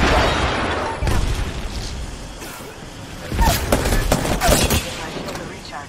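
Frag grenade and Arc Star blasts in the Apex Legends video game, a series of sharp booms and crackling bursts layered over continuous in-game gunfire and ambient rumble, loud and busy throughout.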